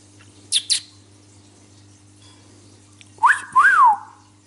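An Agapornis lovebird gives a few bright, high whistled chirps, then a louder pair of rising and falling whistles close to the mic, with quiet gaps between and no talking.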